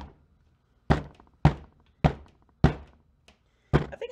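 A cold-process soap mold is smacked down on a table six times in an uneven rhythm, each a sharp, close, hollow thunk that rings out briefly before silence.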